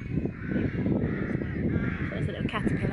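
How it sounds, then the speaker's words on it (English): Loud crow-like birds call repeatedly outdoors during a picnic, harsh cawing notes rising above a woman's speech and general background noise. "can you hear the birds? They're so loud."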